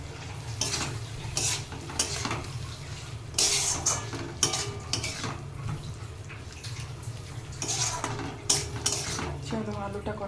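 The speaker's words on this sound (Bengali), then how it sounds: "আলুটা কষানো হচ্ছে" Potatoes being stir-fried in a pan for a prawn and pointed gourd dish, with sizzling, a utensil scraping and clinking against the pan in irregular bursts, close and alone.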